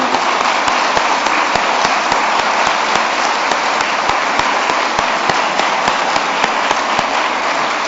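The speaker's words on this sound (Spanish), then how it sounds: "Dale fuerte tu aplauso al Señor." Sustained applause from a church congregation during a Spanish-language worship service, dense steady clapping filling the room at close range with no break.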